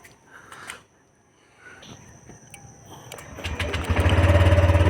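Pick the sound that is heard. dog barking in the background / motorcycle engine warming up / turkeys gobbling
motorcycle engine warming up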